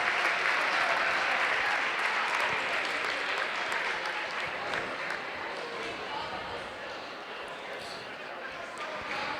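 Loud, dense crowd applause fills a gym at a college women's basketball conference championship semifinal, sustained throughout and easing slightly toward the end.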